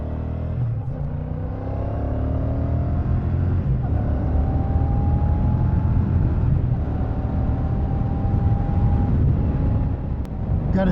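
A 2024 Royal Enfield Shotgun 650 motorcycle being ridden, its engine a steady loud rumble with rising tones through gear changes and wind noise, continuous throughout.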